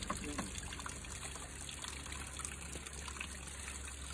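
Water trickles steadily from a spring or small outdoor flow, a soft continuous babble with faint chirps in the background, fairly close and unbroken throughout.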